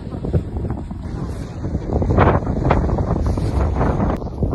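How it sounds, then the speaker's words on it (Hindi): Strong, cold wind gusts across the microphone at Athabasca Glacier in Canada, loud buffeting rumbles that swell and ebb, with faint voices partly underneath. "बहुत तेज हवा है और बहुत ठंडा है"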